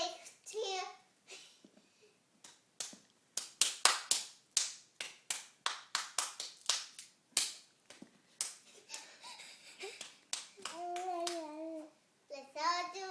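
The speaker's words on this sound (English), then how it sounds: "Let's all do a little clapping." Children clapping along to a birthday song, a lively run of sharp hand claps in a loose rhythm, with kids' voices and singing mixed in.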